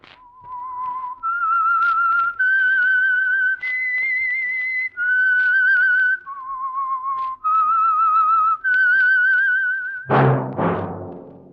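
A clear whistled melody of sustained, sliding notes rises and falls in a steady phrase, close and alone, ending with a brief burst of brassy music, the opening signature of the old radio drama The Whistler.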